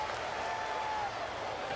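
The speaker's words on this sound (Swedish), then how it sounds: "vilket stöd, vilka applåder han får" Sustained audience applause rings out for rider Ernst Lanner on Pegasus at an equestrian event, a dense steady clapping that holds at even loudness throughout without a break.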